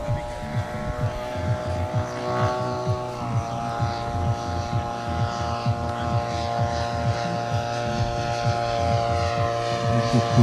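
A Percival Proctor propeller airplane flies past at an air show in Gravelines, its piston engine droning steadily with a pulsing, wavering tone that stays strong throughout.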